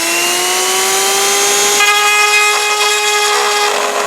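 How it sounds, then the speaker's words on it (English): A Dremel rotary tool with a ball bit bores a hole in a Titanic model, giving a steady, close, high-pitched whine with a pitch that creeps slightly upward and runs without pause. No one speaks. "I'm just gonna go in there and with the Dremel ball"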